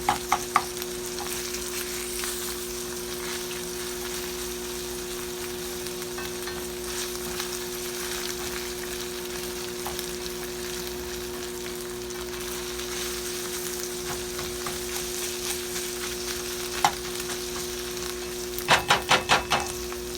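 Ground beef and onions browning in a pan for hamburger soup, a steady close sizzle with a faint hum beneath, then a few sharp clattering scrapes of a utensil near the end.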